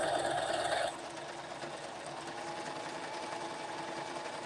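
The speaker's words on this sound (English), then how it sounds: "to my sewing machine, girls" A sewing machine hums steadily throughout, with a louder, brighter burst of stitching in the first second before settling into a quieter, even whir.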